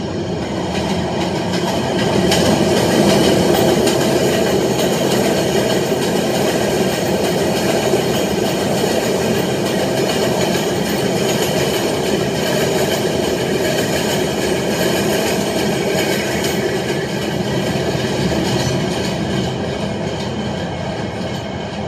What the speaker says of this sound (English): That was an express train. That was on a 6 train.